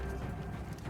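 Samurai horses in the Ghost of Tsushima video game clip-clop briefly, their hoofbeats fairly close and steady over a dense, muffled game soundscape.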